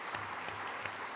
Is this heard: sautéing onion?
no